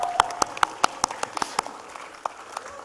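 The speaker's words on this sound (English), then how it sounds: "Audience also you clap." An audience at a startup competition final in Nepal claps in a short, uneven round, loud sharp claps that thin out and fade after a couple of seconds.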